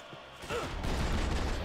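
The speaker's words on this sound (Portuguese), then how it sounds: "Toma, granada!" A grenade goes off in the Max Payne 3 multiplayer shootout, a broad low rumble swelling about halfway through and sustaining loudly to the end, with gunfire-like crackle in the mix.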